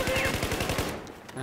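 Rapid automatic rifle fire in Battlefield 4 on the Zavod 311 map, a quick rattling burst of about a dozen shots that cuts off sharply after less than a second.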